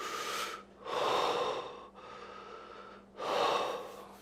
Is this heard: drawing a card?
no